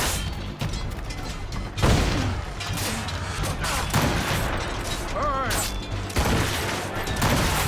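Gunfire in Assassin's Creed Rogue, with sharp shots and heavy booms breaking through a dense, loud wash of game battle noise and mechanical clatter, the blasts landing near the two- and six-second marks.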